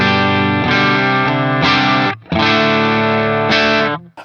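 A Telecaster runs through a JAM Pedals Pink Flow pedal into an amp set almost clean with a slight edge, strumming rich sustained chords in several loud strokes, with a brief pause midway and a last chord fading out.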